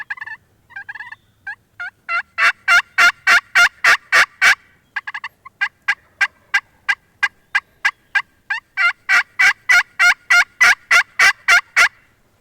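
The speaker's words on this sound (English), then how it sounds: "I'm trying to tick these hens off and get these gobblers to come in here." Wild turkey gobblers gobble loudly in long rapid bursts of rattling calls, several sequences separated by brief pauses, close and clear, during spring turkey hunting in Kentucky.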